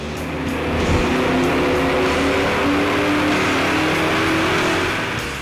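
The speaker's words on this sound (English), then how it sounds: "let's run it one more time on the Dynojet and see just how much power we were able to squeeze out of this combination" A 1999–2004 Ford Mustang GT with an automatic and an Airaid cold air intake revs hard on a Dynojet chassis dyno, its loud, close engine roar climbing steadily and sustaining through a full pull before easing off.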